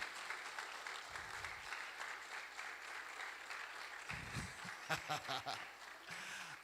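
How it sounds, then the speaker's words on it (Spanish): Men in a church congregation applaud the women, a faint, steady wash of clapping heard from a distance, with a few louder nearby claps and brief voices toward the end. "Los varones, un fuerte aplauso a las mujeres."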